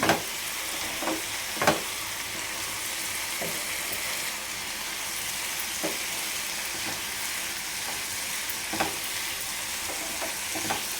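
Beans frying in oil in a pan with a continuous even sizzle, punctuated by a few soft stirring scrapes, close and alone without talk.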